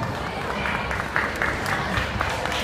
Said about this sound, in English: Please give them a round of applause for being our judges.